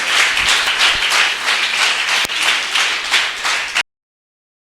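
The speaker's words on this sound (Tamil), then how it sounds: "கைத்தட்டு, கைத்தட்டு." Church congregation clapping together during a Tamil sermon, a dense, steady burst of many hands lasting several seconds, loud and close, then cutting off abruptly into silence.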